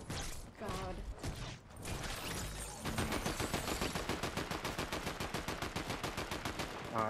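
Rapid automatic gunfire from a Fortnite match, a steady rattling burst that starts after a couple of seconds and runs to the end, close and loud, with earlier scattered game sounds and brief voice chat.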